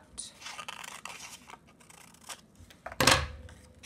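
Scissors cut out a paper triangle with light, soft snips and rustling paper, close but quiet, ending in one louder crisp cut, with some low talking in the background.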